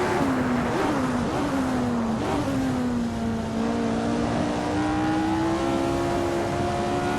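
Simulated Lotus 49 race car engine in Assetto Corsa, a loud, steady high-pitched wail at partial throttle in high gear that rises slowly in pitch through a corner exit, continuous and close with no talk.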